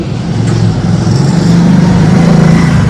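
A motorbike engine runs close by in a steady, loud rumble that rises slightly as it revs, with no voices.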